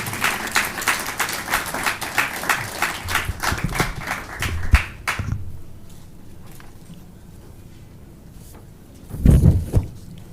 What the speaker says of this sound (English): I'm going to request you now to clap hands for the VC as she comes up